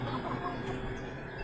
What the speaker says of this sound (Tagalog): Yun ang mga manok.